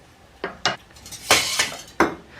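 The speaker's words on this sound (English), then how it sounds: "We're going to add our slurry and whisk it into the mixture" Slurry whisked into an ice cream mixture in a pot, giving a handful of quick metallic scrapes and clinks of a whisk against the pot, close and irregular, with no speech.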